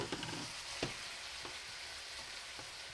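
Mushrooms and onions fry quietly in a pan, giving a soft, steady sizzle broken by a few light clicks and scrapes as they are stirred, with no speech.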